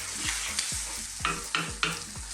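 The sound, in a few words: fresh tomatoes frying and being stirred in a pan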